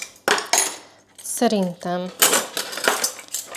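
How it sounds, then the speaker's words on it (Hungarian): Metal cutlery clinks and rattles in quick bursts as it is handled at home, with a voice speaking between the clatters. "Itt vannak ezek az evőeszközök"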